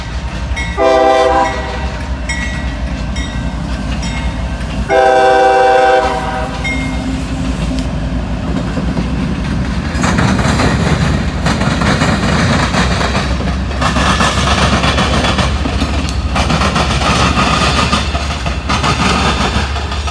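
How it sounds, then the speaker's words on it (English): A train horn blasts twice, then a CSX inspection train rumbles past with loud rolling and clattering wheels, close by and sustained. "I believe that's an inspection train."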